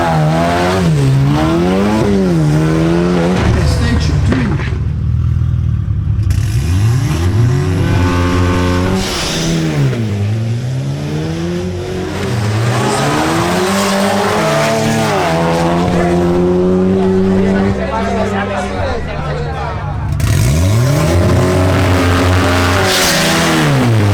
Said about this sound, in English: Next, we have a race between Andres Calderon in his Audi S3 and Javier Lopez in his Audi TT S.